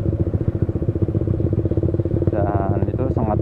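A Honda Supra motorcycle engine idles close by with a steady low chugging pulse, while someone talks over it.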